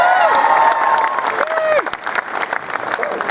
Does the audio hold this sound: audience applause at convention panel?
yes